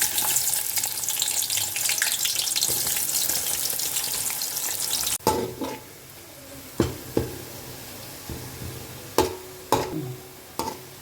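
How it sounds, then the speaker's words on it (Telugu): Onions fry in oil in a pot for chicken dum biryani, a loud, dense sizzle for about five seconds, then quieter frying broken by scattered sharp clinks and stirring knocks. "ఇప్పుడు గిన్నెలో ఆయిల్ వేసుకున్నాను బ్రౌన్ ఆనియన్స్ కోసం ఆనియన్స్ వేసుకున్నాను"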